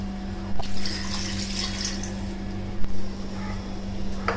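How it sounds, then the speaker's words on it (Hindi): Water poured into a cooking pot of mutton paya nihari: a steady, close splashing flow with a couple of louder gushes. "तो मैं ये पानी डाल दूंगी।"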